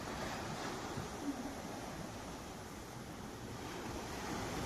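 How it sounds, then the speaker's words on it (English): Ocean waves wash steadily onto the Sri Lanka shore in a continuous, full surf roar, with some wind buffeting the microphone and no voices. "I sit long enough for the sound of the waves to feel familiar"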